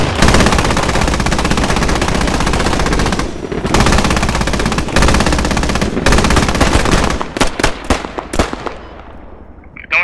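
Sustained anti-aircraft gunfire aimed at a helicopter in the military game Squad, a loud, close machine gun hammering continuously for several seconds, then breaking into separate short bursts and single shots that fade out.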